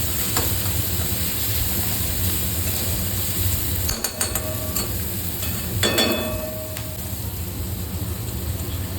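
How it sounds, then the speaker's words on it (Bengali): Freshwater mussels sizzle steadily in a wok in a village kitchen, a constant close frying hiss broken by a few sharp metallic clinks of a utensil against the pan. "এখন জলটা শুকিয়ে একদম খুব সুন্দরভাবে ঝিনুকটা ভাজা ভাজা হয়ে গিয়েছে"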